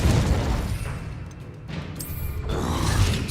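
An Incendiary spell blasting in the video game Hogwarts Legacy, a loud booming burst with a whooshing roar that dips briefly and surges again.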